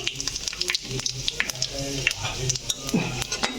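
Panch phoron spices frying in oil in a pan for a fish-head and Malabar spinach dish, stirred with a spatula: a close crackling sizzle punctuated by sharp metallic clinks and scrapes, with a voice talking briefly underneath.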